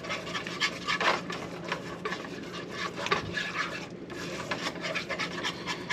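Butter and flour roux being stirred in a pan for mac and cheese, a soft continuous scraping and rasping of the utensil against the pan bottom, quiet and steady with small rhythmic rubs.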